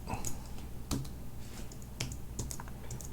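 Computer keyboard typing while data is entered during a Firebase demonstration, irregular clicks and keystroke bursts close to the mic with a low background hum, no talk.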